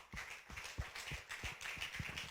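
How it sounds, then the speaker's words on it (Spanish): A church congregation clapping hands as an offering of praise to the Lord, a steady rhythmic run of claps around four per second, faint and distant, with no voices over it. "Dele una ofrenda de palmas al Señor"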